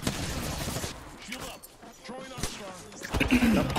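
Gunfire in the Apex Legends video game, with dense bursts of rapid shots and chaotic battle noise, loud and close, while a player talks over it.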